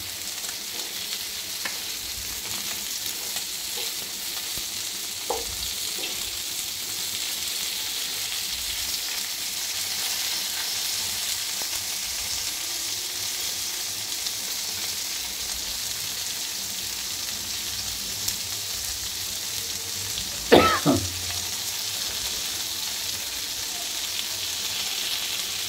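Sarputi fish frying in a little oil on a tawa, a steady broad sizzle running throughout, with a few light utensil taps and a brief louder clatter near the end; no talking.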